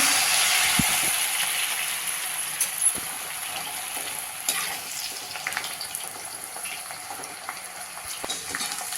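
Noodles deep-frying in hot oil, to be made into crispy noodles for veg manchow soup, a loud, close, continuous bubbling sizzle that eases off slightly, with a few small clinks and no talking.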